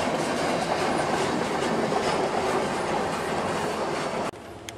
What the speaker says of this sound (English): I think that's train 287. He's crossing the Hoosac River.